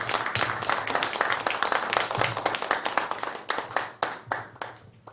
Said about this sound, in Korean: 김영철 장군을 박수로 모시겠습니다